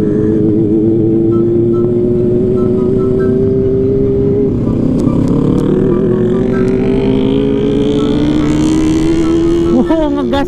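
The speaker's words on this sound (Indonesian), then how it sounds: "Wow, ngegas dia, ngegas." Motorcycles, including a Kawasaki Ninja ZX-25R and a Yamaha R15, at a Sunday morning ride meetup, engines droning loudly and continuously with one bike revving up in a rising sweep, close and steady throughout.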